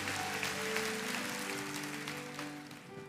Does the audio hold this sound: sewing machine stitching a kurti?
no